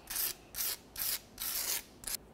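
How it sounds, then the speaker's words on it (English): Razor blade or scraper rasping residue and rust off the rear differential housing of a 2001-2005 Ford Explorer Sport Trac, five even back-and-forth strokes with brief pauses between, close and fairly quiet. "continue on with a razor blade or a scraper. You're going to go ahead and clean up any of the existing residue or rust from the rear differential"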